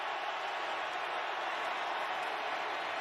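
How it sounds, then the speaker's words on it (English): Stadium crowd at an NFL football game between the Dallas Cowboys and Tampa Bay Buccaneers, a steady wall of roaring noise held at full volume throughout, distant and unbroken. "Crowd at full volume right now."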